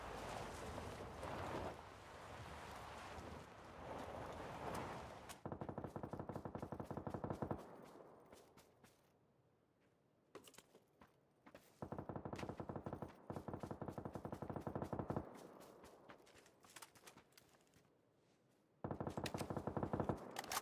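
Video game gunfire from a gun on single fire: dense bursts of rapid shots in three long stretches, loud and close, with quieter ambient noise between them.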